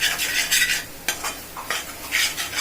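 A spoon scrapes and stirs through duck curry in a pan in short bursts, with a soft sizzle beneath each stroke.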